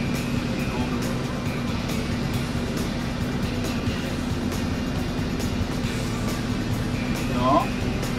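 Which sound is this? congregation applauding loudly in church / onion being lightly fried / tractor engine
tractor engine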